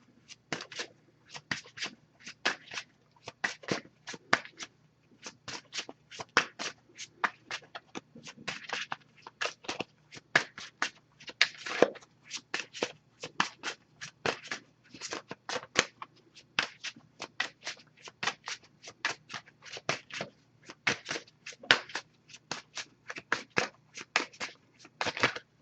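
A deck of oracle cards is shuffled by hand in rapid, crisp riffling bursts that repeat steadily throughout, close and fairly loud with no talking.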